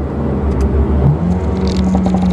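A Mercedes-AMG A35 4MATIC engine rumbles loudly up close, with bursts of crackling and rattling from the exhaust over a steady drone.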